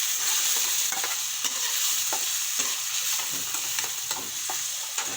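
A spoon stirs pigeon peas, fenugreek leaves and eggplant with turmeric in a hot pan. Constant sizzling frying runs under repeated scraping strokes, close and fairly loud, with no voices.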